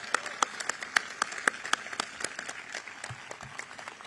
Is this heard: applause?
yes